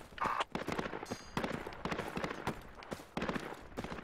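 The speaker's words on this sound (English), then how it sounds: "Yeah, we're taking fire." Gunfire in the infantry shooter Project Reality, with sharp cracks and bursts of shots scattered irregularly, some close and loud, others more distant, mixed with movement and other game noise.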